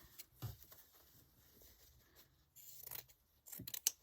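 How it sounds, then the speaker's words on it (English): Scissors roughly cut out a printed motif from 100% cotton scrap fabric, with a few separate crisp snips spaced apart, some close and sharp, in a quiet room. "First thing I'm going to do is cut it out roughly."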